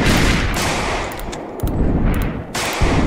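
Rapid bursts of automatic gunfire in the zombie survival game Project Zomboid, loud and dense, firing in long volleys broken by a couple of short pauses.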